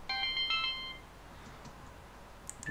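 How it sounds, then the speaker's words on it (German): A telephone rings in a home during Minecraft play, a short burst of bright electronic trilling tones that stops after about a second, followed by faint background noise and no speech. "Oh, und das Telefon klingelt."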